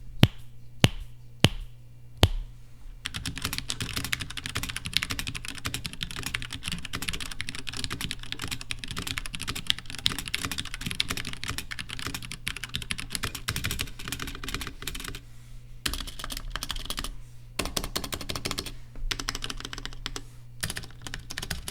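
Typing on a mechanical keyboard as a sound test: a few isolated key clicks, then a dense, steady run of fast keystrokes that pauses briefly before resuming, close and clear with no voices.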